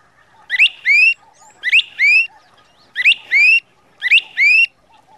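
A person imitates a bird's song with four repeated high, sharp whistled chirps in an even rhythm, each a quick rising pair of notes, close and clear against near silence.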